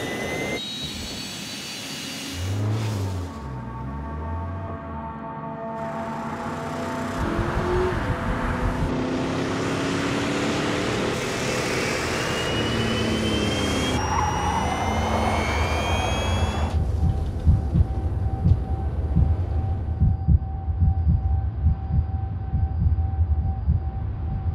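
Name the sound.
small jet engine running on a flight suit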